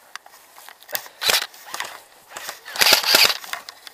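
Airsoft guns firing during a jungle skirmish game outdoors, a scattered series of sharp snapping shots in irregular bursts, moderately close, with a faint voice in the background.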